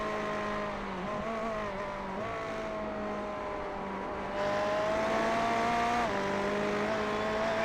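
A Ferrari race car in the iRacing game at the Nurburgring 24 Hours, its engine and turbos droning loud and steady with rising and dipping pitch through gear changes, heard alone.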